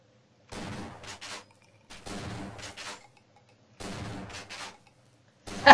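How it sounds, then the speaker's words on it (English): Shotgun fire in the video game Half-Life: three loud, close bursts of blasts about a second apart, with short silences between them and a sharp hit at the very end. "I guess I'm gonna have to use the shotgun."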